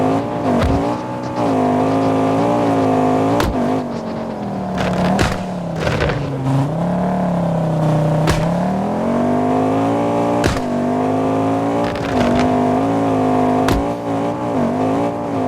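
A rally car's engine drones loudly and steadily through a video game stage (CPM2 WRC), its pitch rising and dipping with throttle, sliding downward mid-run as the car spins, with sharp transient clicks and no voices.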